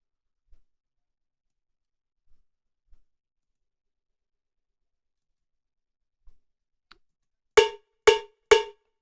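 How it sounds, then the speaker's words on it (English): Three sharp cowbell hits used as a metronome click sound in quick, even succession near the end, after a stretch of near silence with faint ticks. "And add cowbell."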